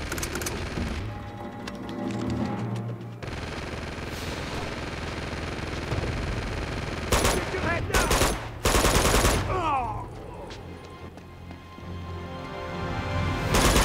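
Turret machine gun in the video game Uncharted 2 rattles off sustained automatic bursts with rapid repeated cracks, mixed with other gunfire and game effects, while a voice talks over it.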